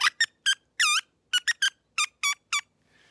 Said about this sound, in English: That is the Strictly Business Coaxer right there.